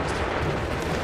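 A musket volley roars in Assassin's Creed 3, a dense sustained burst of gunfire filling the short moment without a break.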